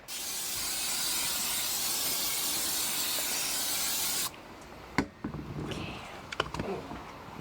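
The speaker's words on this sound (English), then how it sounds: "we're using the old school barbecue to cook these steaks from Costco" Costco steaks hiss loudly and steadily on an old-school barbecue grill for several seconds. The hiss then cuts off, leaving quieter clatter and a few sharp knocks.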